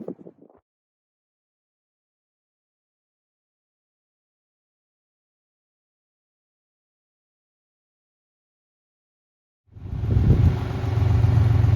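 A tractor engine at a greenhouse build site starts up abruptly after long silence, a loud, close, steady low rumble that holds to the end, with a brief faint sound at the very start.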